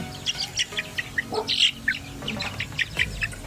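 Native chicken chicks chirping in a farm setting, a busy overlapping chorus of short high peeps at close range, with no talking.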